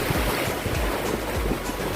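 Sea waves wash continuously onto a Goa beach. The surf is loud and rushing, with heavy wind noise on the microphone and no talking.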